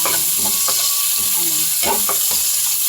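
Garlic and white onion fry in a pan for pork tokwa with salted black beans, giving a steady close sizzle with a few stirring scrapes and no talk.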